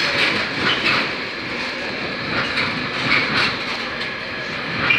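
A train passes through Doncaster station on a diversion, a steady rumbling roll with recurring clickety-clack wheel beats running throughout at moderate, fairly close level, with no talk over it.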